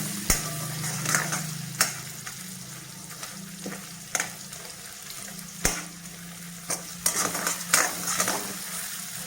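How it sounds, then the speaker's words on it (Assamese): Chopped onion frying together with paneer in a hot pan, a continuous sizzle broken by sharp clacks and scrapes of stirring at irregular intervals, close and fairly loud with no talking. "পিঁয়াজে পনীৰে একেলগে ভাজিম।"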